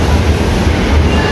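A Dhaka metro rail train rumbles close by with a loud, continuous, heavy roar and low rhythmic throb, with no talking.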